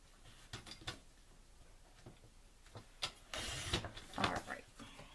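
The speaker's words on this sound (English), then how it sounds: "I'm going to trim off an 1/8 inch right there on that side to make it even." Cardstock sliced on a paper trimmer while making a Thanksgiving greeting card: a few soft clicks, then a louder rasping slide of the blade across the paper lasting about a second, close by, with no talk.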